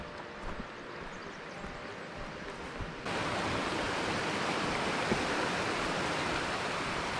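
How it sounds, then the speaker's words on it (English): A steady rush of flowing stream water in a mossy Washington forest fills the clip, growing suddenly louder and closer partway through, with no voices. "I hear more water right over here."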